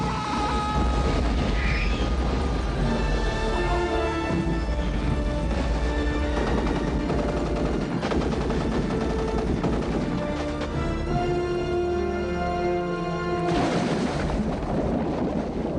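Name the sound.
explosion and gunfire in film The Long Kiss Goodnight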